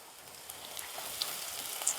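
Shallots frying in hot oil for a Kerala-style tempering, a continuous soft hiss and crackle, close and fairly quiet with no talking.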